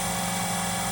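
The spindle of a 2014 DMG Mori Seiki DuraVertical 5100 CNC vertical machining center runs at 2,000 RPM, giving a steady, loud, continuous mechanical whir with no talk over it.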